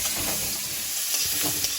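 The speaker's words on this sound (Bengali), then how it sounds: "সেই আলু কাটা তেলের মধ্যে রেখে দিলাম ওর সঙ্গে তিন চারটে চিংড়ি মাছ ভেজে নেব" Sliced potatoes and a few prawns fry in oil, giving a dense, continuous close sizzle with a soft stirring texture throughout the short stretch.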